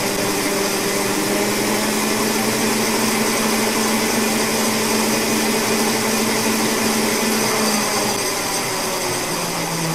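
A 63 kW AC output generator engine runs steadily at high speed, a loud continuous mechanical drone with a constant whine and hum throughout, close by and without talk.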